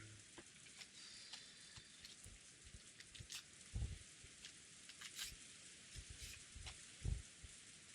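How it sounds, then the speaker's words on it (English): Steady rain falling as game ambience in the Umineko visual novel, a constant dense hiss with a few scattered soft drops and thumps, heard alone with no talk. "The cold air and the monotonous sound of the rain were comforting."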